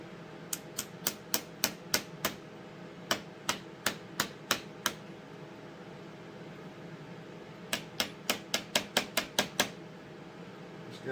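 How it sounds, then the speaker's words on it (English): Rivets are hammered into leather in quick bursts of sharp, close taps, several strikes per group with short pauses between groups, over a faint steady background hum. "We're going to see about putting these rivets in."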